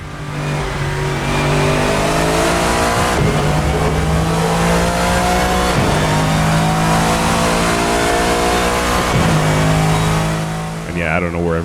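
Loud V8 drone from a Lexus GT3 racer's 5.4-liter engine in Assetto Corsa at Imola, climbing through several gear changes with short pauses at each shift, then easing off at the end.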